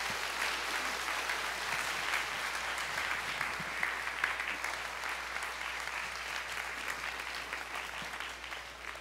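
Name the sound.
congregation applause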